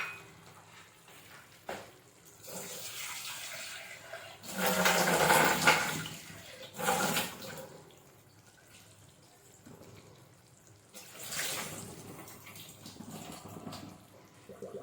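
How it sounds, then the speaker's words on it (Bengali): One cup of rice being washed in water, with running and sloshing water in bursts, close and fairly loud, with quieter handling sounds in between and no talking. "এই যে 1 কাপ চাল নিয়ে ধুয়ে"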